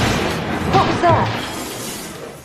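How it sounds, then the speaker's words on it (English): A car smashes into the front of a house in a movie scene, a loud crunching impact with a brief crash and debris clatter, then a fading rumble under the scene's ambient sound. "Eli just crashed his car into the front of the house."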